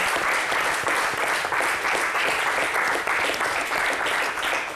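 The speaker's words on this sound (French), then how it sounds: "Est-ce qu'on peut acclamer le Seigneur?" A church congregation applauding loudly and continuously, dense clapping from many hands filling the space without a break.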